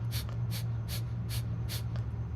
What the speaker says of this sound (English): So breath of fire is like, imagine a dog panting,